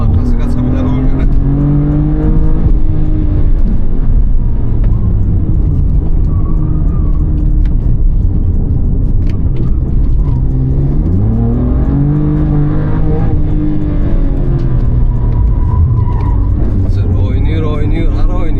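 A BMW M4 CS engine revs and pulls hard during time attack driving, its loud steady drone rising and falling through gear changes, with people talking over it throughout.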